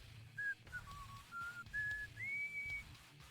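A spy character whistling in a DOS full-motion-video game, a faint, thin tune of short held notes and slides rising in pitch, heard alone over quiet low background rumble.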